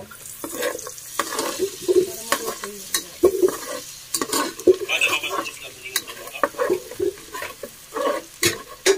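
Butter garlic shrimp and mussels are stirred in a frying pan, with irregular scrapes and clacks of the utensil against the pan over a soft sizzle, close and uneven, without speech.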